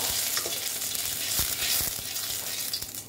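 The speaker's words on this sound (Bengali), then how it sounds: "আর দেখো এখন আমি ফোড়নে দিচ্ছি শুকনো লঙ্কা" Dry red chillies sizzling in hot oil in a kadai for tempering, a bright continuous hiss with a few sharp spatters and pops, close and alone.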